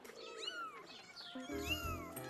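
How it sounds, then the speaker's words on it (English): An angry cartoon cat yowls and meows in two wavering, rising-and-falling cries, the second harsher and backed by a low rumbling layer, close and alone without talk. "Caillou was frightened by the angry cat."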